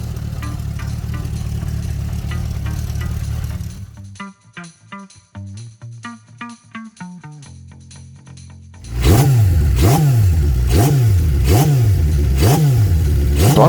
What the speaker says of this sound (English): The throttle response on this bike has never been so crispy.